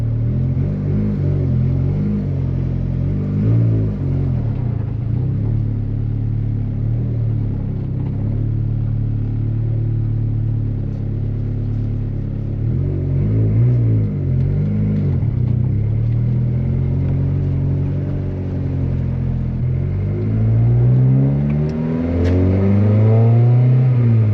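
A turbocharged Honda Civic running E85 with water-methanol injection fires up and idles with a loud, steady rumble close by, then revs repeatedly with rising and falling engine pitch toward the end.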